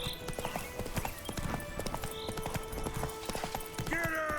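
Horse Roach in the video game The Witcher 3 galloping, with rapid rhythmic hoofbeats running continuously over game ambience, a short whinny and layered tonal effects near the end, close and fairly loud.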